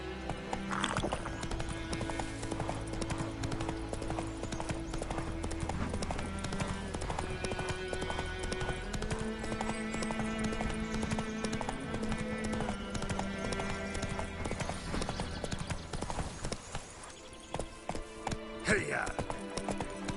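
Roach the horse galloping in The Witcher 3, a steady clip-clop of hooves running under continuous game music and effects, with a brief whinny late on.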